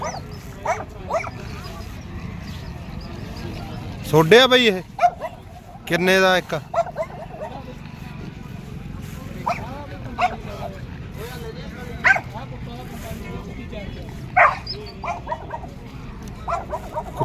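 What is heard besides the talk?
dogs barking at livestock market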